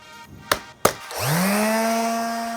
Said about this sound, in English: we're going to sand it all down to be able to stain it.